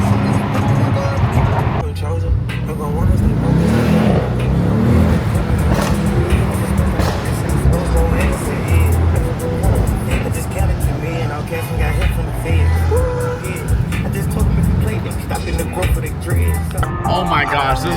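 A car driving at night in Miami gives a steady, loud road and engine rumble inside the cabin, mixed with music and a person talking over it throughout.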